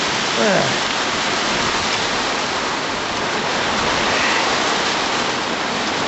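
Heavy rain pours down in a dense, steady roar, a constant loud hiss with no letup.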